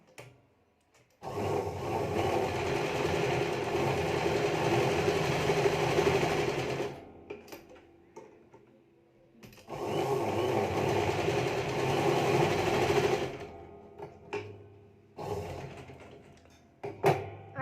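A sewing machine stitches a blouse shoulder seam in two long whirring runs of fast, even needle chatter, then a few short bursts, close and fairly loud with no talking over it.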